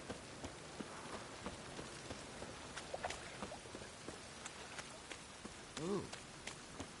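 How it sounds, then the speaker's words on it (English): Rain patters faintly in a PS4 video game, a soft hiss broken by scattered sharp drops and taps, with brief quiet voice sounds partway through. "Looks like rain."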